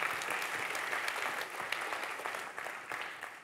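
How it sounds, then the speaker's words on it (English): Audience applause at a Wikimania 2013 keynote for Wikipedia Zero, a steady patter of many hands from a sizable crowd, moderately loud and sustained throughout without talk. "Yes, let's applaud Wikipedia Zero."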